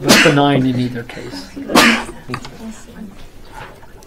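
A sharp sneeze bursts out near the start, then a person speaks calmly, with a second loud breathy burst partway through.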